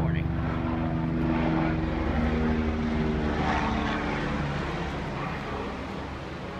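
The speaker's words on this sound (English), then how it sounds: "The helicopter's over my house." A helicopter passes over a house at night, a steady droning rotor and engine rumble that stays loud and close throughout, with a voice talking over it.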